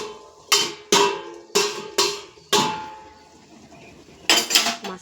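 A bottle gourd is being cut in a village kitchen. The blade comes down in a series of sharp, close chops that ring a little, five in quick succession, then a pause, then a final flurry of quick hits.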